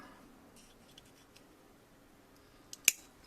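Nippers trimming a part off a Halloween decoration, faint small handling noises followed by a crisp double snip near the end, quiet and close.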